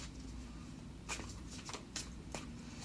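Tarot cards shuffled by hand during a reading, a few soft papery riffles and flicks in quick bursts over a low steady room hum.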